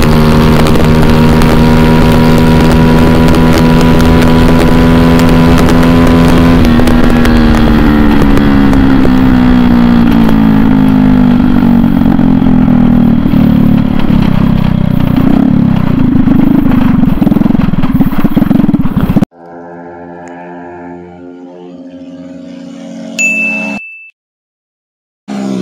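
A Honda RS125 with carburetor and a Honda Wave 100R in a speed test, one loud engine droning close with rising and falling pitch as it accelerates, then cutting abruptly to quieter, sparser engine noise.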